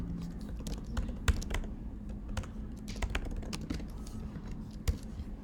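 Computer keyboard typing, steady clusters of keystrokes with a few sharper clacks, close and moderately loud over a low room hum, no talking.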